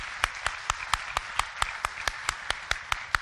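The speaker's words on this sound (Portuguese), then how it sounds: "Uma salva de palmas novamente." Audience applause at a Brazilian academic event panel, sparse individual claps ringing out steadily with sharp, distinct hits over a soft wash of clapping throughout.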